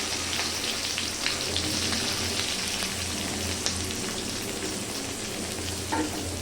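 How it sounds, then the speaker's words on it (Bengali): Sliced onions fry in hot oil at the start of a chicken dish, a dense close crackling sizzle with occasional stirring scrapes and sharp pops, with no voices. "তেলটা গরম হয়ে গেছে এবার পেঁয়াজ দিয়ে দিলাম"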